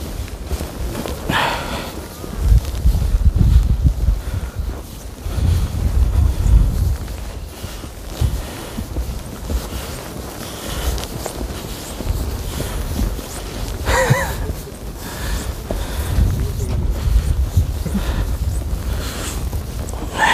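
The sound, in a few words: strong wind blowing on the microphone outdoors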